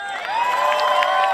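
A crowd at a live music rally cheers and whoops loudly and steadily, with many voices blending into one sustained roar close by.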